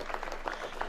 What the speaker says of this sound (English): Can we give him some rounds of applause?